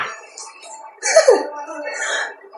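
A person with a cold coughs and clears their throat in a short, close, harsh burst, then breathes roughly.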